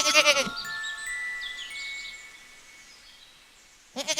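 A goat bleats in a single drawn-out, wavering cry, close and fairly loud, followed by a quiet stretch and the start of another bleat at the end.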